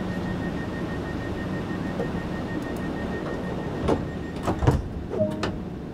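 Train door locking in Train Sim World 2 on the Southeastern High Speed line: a steady cab hum, then several short mechanical clunks and clicks close together near the end, followed by a faint beep.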